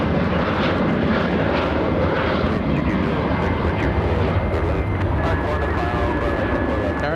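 A jet airliner rumbles steadily at LAX airport, a broad, continuous engine roar heard from a distance, with a person talking over it.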